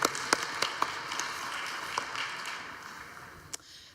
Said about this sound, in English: If you please give my panelists a round of applause.